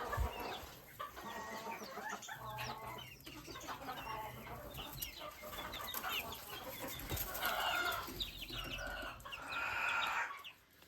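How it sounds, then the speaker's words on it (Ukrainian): A flock of hens and young chicks clucking and peeping in overlapping bursts, with a rooster-like call rising near the end, close by and lively. "курчатка тут менші, а тут дорослі курочки"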